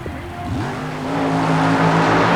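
Super modified mud racing machine with nitrous oxide system making a run at Nassau Coliseum in 1991, engine roaring loud and steady, pitch sweeping down then climbing and holding, with crowd and arena noise beneath.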